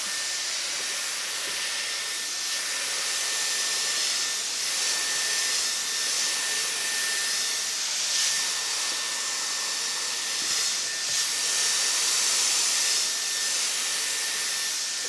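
Dyson Airwrap with its brush attachment blows air steadily while drying hair, a loud, continuous close-up hiss with a faint whine that lasts the whole time without breaks.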